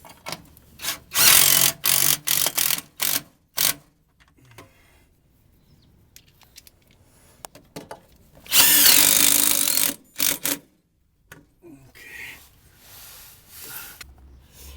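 A power drill drives screws into a running board bracket on a ProMaster van, loud whirring bursts in short stop-start pulses with a longer run near the end, separated by quiet gaps and light handling noise.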